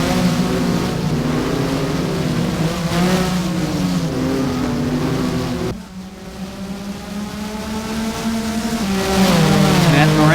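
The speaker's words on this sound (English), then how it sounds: "Getting much closer as these cars fight back and forth." Porsche Mobil 1 Supercup race cars battling at Hockenheim in the Race07 video game, engines screaming loudly and shifting gears with a brief dip, under steady race commentary.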